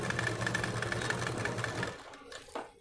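A sewing machine stitching blouse lining runs in a fast, even whir of needle strokes for about two seconds, then stops, leaving a faint click or two in near silence.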